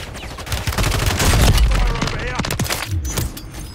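Rapid bursts of gunfire from a multiplayer shooter video game, dense overlapping shots and fusillades over a few seconds with players talking over it.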